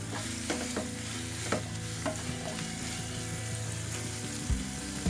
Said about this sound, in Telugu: క్యారెట్, క్యాప్సికమ్, ఆనియన్స్ బాగా మగ్గేంత వరకు ఫ్రై చేసుకోవాలి.